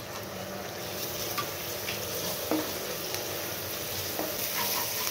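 Ginger and garlic added to a hot pan with onion, a steady moderate sizzle with occasional stirring scrapes and small pops, no speech.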